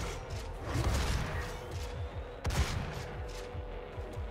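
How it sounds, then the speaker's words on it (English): Gunfire from enemies in the video game Doom rattles in dense bursts of repeated shots, with a sharper close blast midway, set against a busy, loud game mix. "Stop shooting at me."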